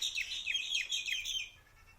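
Birds chirp outdoors on a local street in a quick series of bright, repeated descending tweets, fairly near and clear over a quiet background, then trailing off.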